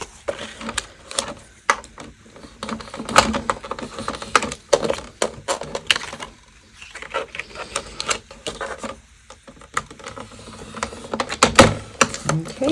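Paper being scored on a scoring board, close and irregular scraping and tapping strokes repeating over several seconds, with a faint voice in the background.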